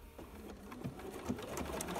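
A sewing machine stitches along a marked line at the corner of a self-binding blanket, a soft, steady close-up whir with faint rhythmic needle ticks and no talking.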